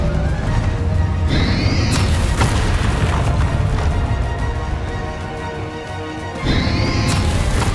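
Spell blasts from the Hogwarts Legacy video game, Bombarda and Confringo, thunder through as dense booming crashes with a short lull before another loud burst, set against a heavy rumbling game score.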